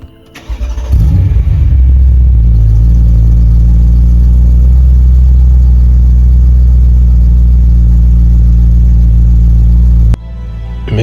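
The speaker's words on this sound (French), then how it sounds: "Ce V8 atmosphérique est devenu culte, incompris hier, adulé aujourd'hui." A BMW M3 E92 with its naturally aspirated V8 roars loudly and steadily after a brief start, holding a strong sustained note for about nine seconds before cutting off, heard close and alone.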